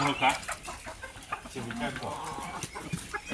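A large rooster weighing around 7 to 8 kg clucks in short bursts, close and moderately loud, with other fowl sounds and some background voices mixed in.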